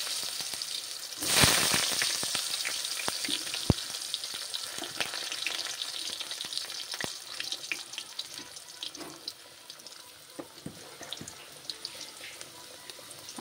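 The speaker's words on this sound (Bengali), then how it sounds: "এবারে আলুটা ভাজা হবে একটু লাল লাল করে।" Cubed potatoes fry in hot oil in a home kitchen pan, a steady close sizzle with crackles and occasional utensil clicks, opening with a brief louder burst and no talking.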